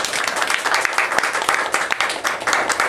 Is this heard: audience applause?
yes